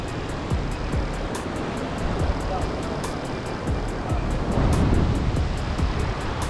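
Ocean surf and a steady breeze at Central Park in Puerto Limón, Costa Rica, a continuous broad wash of waves with wind noise, swelling a little louder near the end, with passing traffic faintly mixed in.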